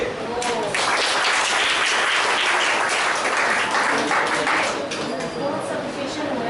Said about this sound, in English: Clap in a good way.